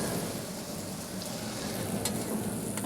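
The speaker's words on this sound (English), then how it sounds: "Here I've got spinach and spring onions frying in a little olive oil." Spinach and spring onions frying in a little olive oil, a steady close sizzle and crackle that continues evenly throughout with no talking.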